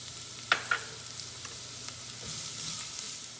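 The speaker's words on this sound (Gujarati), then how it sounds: "પહેલાં આપણે હિંગ નાખશું અને કાંદાને આપણે સોતે કરી નાખશું" Onions sautéing in hot oil with asafoetida for a Gujarati dhokli kadhi, a steady close sizzle with a couple of sharp spoon clinks early on and no talking.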